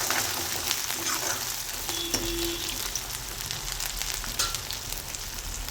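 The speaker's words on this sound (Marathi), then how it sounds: "1 मिनिट त्याला पण आपण तेलात असं परतून घ्यायचं आहे." Crushed garlic and ginger frying in hot oil for Maharashtrian bajra dal bati, a dense, continuous close sizzle and spatter like steady rain with faint stirring.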